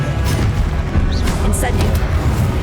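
Fiery spell blasts from the Incendio charm in the Hogwarts Legacy video game, a dense booming rumble with short crackling bursts, loud and continuous, with voices mixed in.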